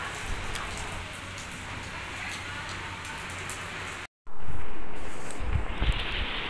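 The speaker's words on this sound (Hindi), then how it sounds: "अब एकदम से इतनी तेज़ बारिश शुरू हो गई है और बिल्कुल आसमान भी एकदम काला हो चुका है" Heavy rain pours down outside under a darkened sky, a dense steady hiss with patters of drops, briefly cut off and then returning louder and closer.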